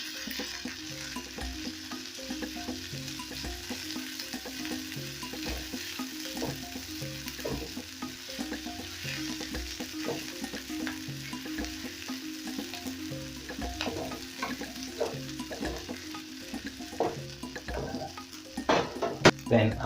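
Ginger fries in hot oil in a pan with a steady sizzle, and a spoon scrapes and clinks against the pan as it is stirred. The sound is close, moderately quiet and without speech.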